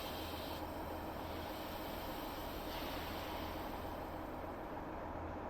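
A passenger train on the Huddersfield line creeps slowly into a station platform, heard as a faint, steady low hum and rumble of a moving carriage with no distinct clanks or voices.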